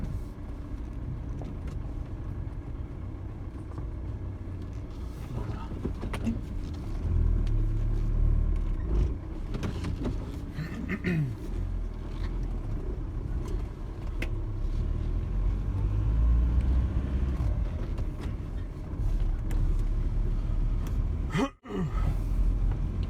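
A Ford Transit 2.4 TDCi van with 140 hp drives along, its diesel engine giving a continuous low rumble that swells and eases as gears change, with a brief drop-out near the end.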